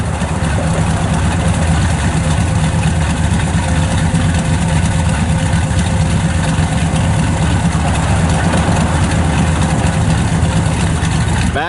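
A car with dual exhausts and a performance camshaft idles steadily close by, a loud, even low rumble holding for the whole stretch with no voices.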